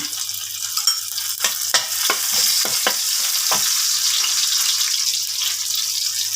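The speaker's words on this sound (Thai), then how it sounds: "ใส่กะปิก่อน ตีไปผัดก่อนให้มันหอม" Shrimp paste stir-fried in hot oil in a pan as the base for a tilapia jungle curry, with a steady close sizzle and a run of sharp spatula scrapes and stirs, no voices.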